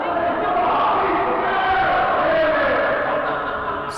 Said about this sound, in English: The SCW crowd here certainly letting him know what they think of him.